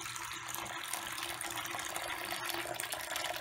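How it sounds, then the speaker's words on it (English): Supernatant liquid poured off a humate sample, a steady splashing, trickling pour that runs continuously at close range. "And the same here, pouring off supernatant"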